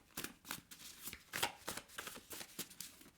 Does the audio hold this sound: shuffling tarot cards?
yes